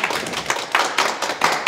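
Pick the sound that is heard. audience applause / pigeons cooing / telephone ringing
audience applause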